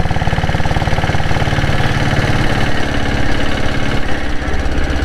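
A Royal Enfield Bullet with a diesel engine runs close and loud, its thumping, knocking beat pulsing steadily as the engine pulls and accelerates, with no speech.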